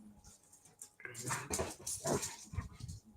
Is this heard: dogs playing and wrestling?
yes